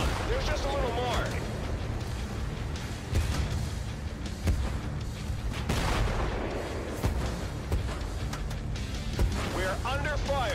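Artillery booms and scattered gunfire in the World War tank game Battle Tanks Legends of World War, heavy thuds and blasts recurring over a rumbling battle din, with voices and whistling effects mixed in.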